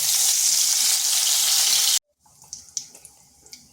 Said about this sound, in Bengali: ফোড়নে দিচ্ছি 2টো এলাচ, 2 টুকরো দারচিনি আর সামান্য গোটা জিরা।